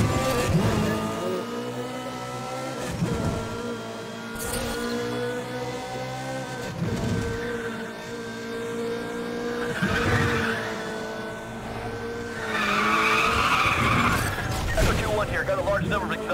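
Street race cars in the video game Need for Speed The Run skid and squeal their tires between bursts of engine noise, while people talk over the scene.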